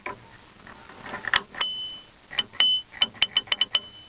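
A small doorbell, apparently improvised, rings in a yurt, a few bright metallic dings followed by a quick run of repeated rings, close and clear.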